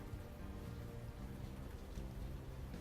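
Steady rainfall in the adventure game Unavowed, a soft continuous hiss of drops on city streets at night, faint and unbroken with no voices over it.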